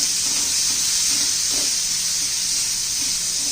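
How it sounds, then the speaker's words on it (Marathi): Chopped onion fries in hot oil in a pan for a raw banana curry, a steady, loud hiss and sizzle running unbroken throughout with no voices. "पहिला कांदा घालायचा त्या तेलामध्ये कांदा चांगला आपल्याला तांबूस रंगावर भाजून घ्यायचा आहे"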